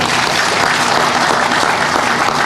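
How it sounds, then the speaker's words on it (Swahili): An audience at a governor's youth employment program launch breaks into dense, loud applause, continuous clapping filling the whole moment without pause. "Wangwana, simwapigie makofi tafadhali"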